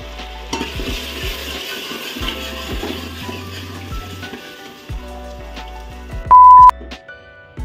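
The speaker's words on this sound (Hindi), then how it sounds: "अब मैं इसके अंदर टमाटर डाल रही हूँ" Tomatoes added to a pan for pav bhaji, with a soft sizzle under repeated scraping and stirring strokes and spoon taps on the pan, then a brief bright clink near the end.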